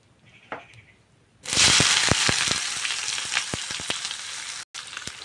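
Onions dropped into hot oil with bay leaves and cumin, a sudden loud burst of sizzling that settles into steady crackling frying with popping spatters, close by after a quiet start, with no talking.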